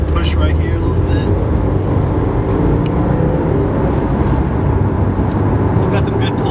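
Stock Subaru WRX accelerating hard, a loud, steady low engine roar with road and wind noise filling the cabin throughout, with a driver talking over it.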